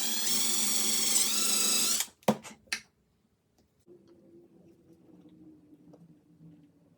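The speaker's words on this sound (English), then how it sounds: "We just got to drill this center hole first before we" A power drill whines loudly for about two seconds drilling a center hole in a golf ball puzzle, then stops with a few clunks, followed by quiet handling noises.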